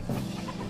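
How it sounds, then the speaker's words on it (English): Chickens cluck briefly in the video game Forge Quest, a short murmur of fowl sounds at moderate level with no talk. "Many chickens."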